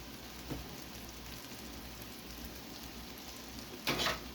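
Mushrooms frying in oil in a pan for a stroganoff, a quiet steady crackling sizzle with a brief louder burst of spattering near the end.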